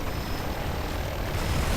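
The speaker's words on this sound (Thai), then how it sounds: "เฮ้ยเฮลิคอปเตอร์" A helicopter in the video game Turok makes a loud, steady engine and rotor roar that fills the whole brief moment, with no voices over it.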